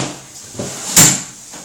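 Safety-type drawers with release levers being pulled from a cabinet, a short wooden scrape and a sharper knock or clunk, close and brief.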